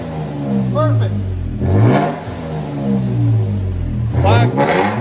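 Toyota Tacoma TRD 4x4 with a 3.5L V6, manual transmission and Black Widow Widowmaker exhaust, revving loud and deep in repeated throttle blips, heard from inside the cab with people talking over it.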